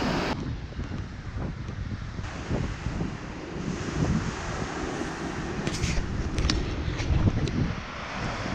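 Wind gusting across a wet driftwood beach at Haast during whitebaiting, a steady rough rush of wind noise buffeting the microphone with surf rumbling beneath, no voices.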